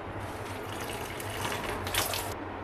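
Water splashing and pouring as homemade butter is rinsed in a vessel and then drained, a steady close wash of liquid that swells briefly toward the end.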